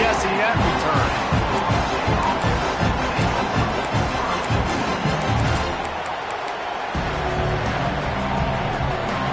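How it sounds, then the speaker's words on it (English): Stadium crowd noise from an NCAA 26 college football video game, Sooners versus FSU: a steady, loud roar of a packed crowd with rhythmic stomping or chanting pulses, dipping briefly near the end before swelling again. "This crowd ready to make its presence known."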